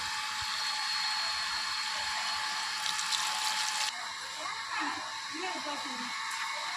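Water flows from a supply pipe in Ahmedabad's Shantinagar area as a steady, close rushing hiss that barely changes. A few faint voice-like sounds are mixed in near the end.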